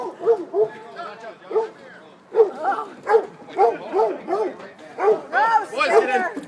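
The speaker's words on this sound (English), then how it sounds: "We got a moose chasing the dog around the yard here." Dog yelping while a moose chases it around a yard, repeated excited yips and barks heard under loud, agitated shouting from people nearby.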